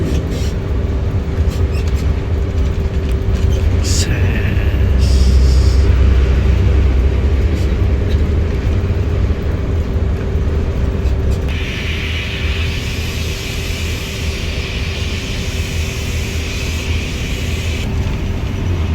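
Nusantara Patas bus overtaking on a quiet asphalt road near Temanggung, heard from inside as a loud, steady engine drone and road rumble with a rising swell mid-way and a high whine later.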